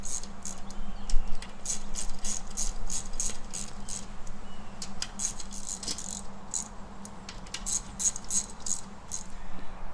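Bolts being run down by hand on a KMC KM237 crawler beadlock ring, irregular light metallic clicks and rattles over a low background hum, close by with no voices.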